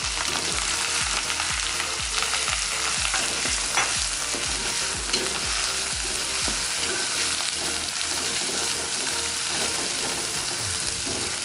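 Spice paste for nasi kebuli sizzles loudly in a pan, with a spatula scraping and stirring in a steady repeating rhythm under a constant frying hiss.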